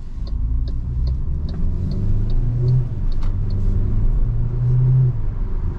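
A 2024 MG HS facelift with a 162 hp engine, shifted into sport mode, holds a steady low engine rumble with a mild rise in revs, heard from inside the cabin at night with faint ticking clicks over it.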